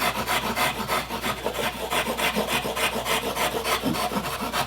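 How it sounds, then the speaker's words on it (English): A hand rasp, a cheese grater from the Body Shop, files delicate refractory material during a door modification, making steady rhythmic scraping strokes that are close and fairly loud, with no talking. "You can see just this rasp this is a cheese grater from the Body Shop."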